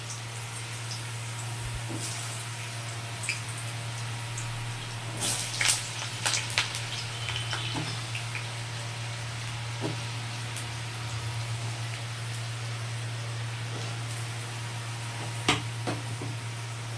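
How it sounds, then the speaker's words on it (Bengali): Potato pieces frying in hot white vegetable oil in a home kitchen, a steady close sizzle with occasional utensil clinks and pops. "তেলটি গরম হয়ে গেলে আমি প্রথমে আলুগুলো এর মধ্যে দিয়ে দেবো"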